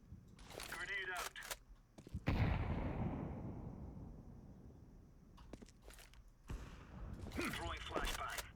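A grenade explodes in a first-person shooter with a sharp, heavy boom, and a long rumbling tail fades over several seconds. Gunfire and clicking game effects come before and after, with talk around it.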